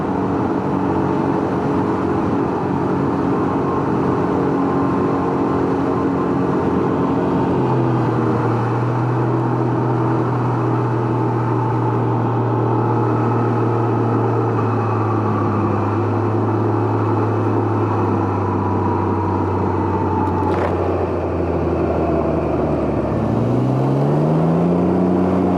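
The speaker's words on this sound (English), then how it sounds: "So much nicer to ride this bike without that obnoxious exhaust deafening me." Can-Am Ryker three-wheeled motorcycle rolling over grooved pavement, its engine holding a steady drone with a low harmonic hum that dips and rises as speed shifts, heard continuously from the rider's position with wind noise throughout.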